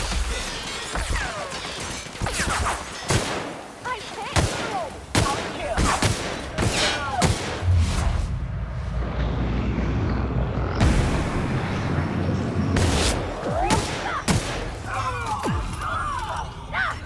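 Heavy-weapon gunfire in the sci-fi game The Outer Worlds, a string of loud, sharp blasts with crashing impacts repeating through most of the clip, a voice speaking between shots.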